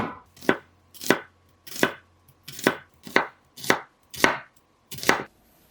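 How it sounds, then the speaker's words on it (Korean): Knife slicing onion thinly on a board: eight crisp, evenly paced chops, roughly one every 0.6 seconds, close and clear with no talking. "양파는 얇게 썰어주세요."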